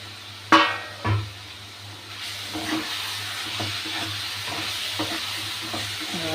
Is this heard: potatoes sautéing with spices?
yes